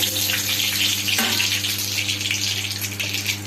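Panch phoron, bay leaf and dried chilli sizzle in hot oil for a dal with banana flower, giving a steady loud hiss close up with a faint steady hum underneath and no talk.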